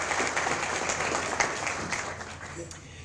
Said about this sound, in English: let's have one more round of applause for our area employees of the year